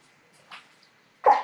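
A person sneezes during an online school board meeting, with a faint short breath or catch first, then a sharper burst close to the microphone against an otherwise quiet background.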